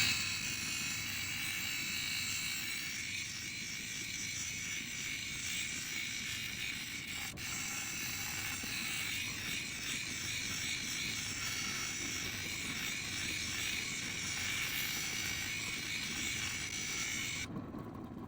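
A lapidary polishing wheel works a Spencer opal, giving a steady, unbroken whirring drone that holds at an even level throughout with no talk over it.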